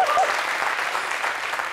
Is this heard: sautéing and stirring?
no